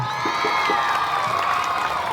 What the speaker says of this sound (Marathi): कोल्हापूरकरांचं प्रेम जरा दंदने टाळ्या